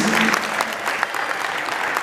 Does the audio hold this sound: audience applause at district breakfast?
yes